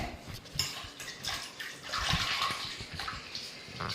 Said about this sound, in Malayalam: ഞാനിവിടെ കറിവേപ്പില കഴുകാൻ വെച്ചിട്ടുണ്ട്